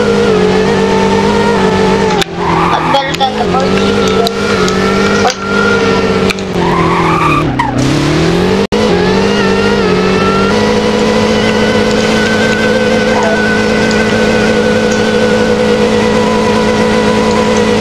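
Car engine in the Roblox Driving Empire racing game, a loud sustained drone with shifting, sweeping pitch and skidding tire noise through the first half, then a steady high whine.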